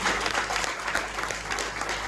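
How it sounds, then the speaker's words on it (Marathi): An audience in a hall at a training-event award announcement claps for the award winners, a fairly faint, continuous wash of applause with no voices over it. "इथं जोरदार टाळ्या त्या सर्व लोकांकडे द्यायला पाहिजे"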